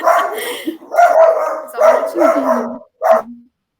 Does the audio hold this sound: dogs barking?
yes